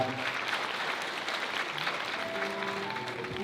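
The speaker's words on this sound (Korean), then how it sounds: "두 사람을 큰 박수로 축복해 주시길 부탁드립니다" Wedding guests applaud the newly married couple at a ceremony in a hall, a steady wash of clapping held at moderate level for the whole stretch, with faint murmuring and a bit of music underneath.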